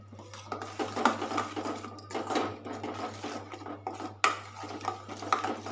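A mixer grinder whirs steadily, grinding a paneer butter masala paste of chilli powder, garam masala, coriander powder and turmeric, with a constant low motor hum under a rough, churning grind that surges in a few spots.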